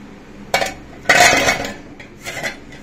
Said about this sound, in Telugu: జల్లి గిన్నెలో వేసుకొని ఆ తర్వాత స్టోర్ చేసుకోవాలి.